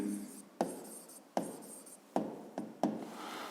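Pen writing on paper while working a school physics exercise, a series of five short scratchy strokes with brief pauses between them, close and clear with no speech.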